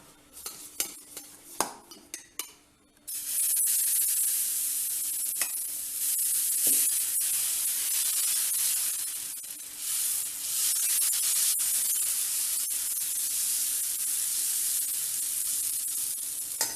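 Keerai dosa batter made with mudakathan greens goes onto a hot pan and bursts into a loud, steady sizzle, after a few short taps and scrapes of a ladle against the pan at the start.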